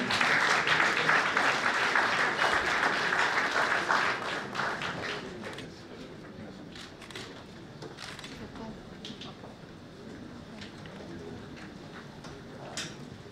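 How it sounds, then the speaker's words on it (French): Audience applause at an awards ceremony, loud dense clapping for the first four seconds that then thins to scattered claps and taps, with a voice speaking faintly in the background. "Sous vos applaudissements, je vous prie"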